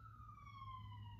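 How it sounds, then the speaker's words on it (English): Wailing emergency siren on a Philadelphia street, a steady high tone gliding slowly downward with its harmonics, heard alone over low traffic rumble and moderately distant. "pardon the siren, it's Philly."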